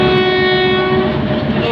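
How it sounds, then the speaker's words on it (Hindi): Pakistan Railways train at Basal Junction as it prepares to depart, a loud steady horn tone holding through the first second over rumbling rail and engine noise that carries on after the horn drops away. "अभी हमारी ट्रेन बसाल जंक्शन को छोड़ने जा रही है जी"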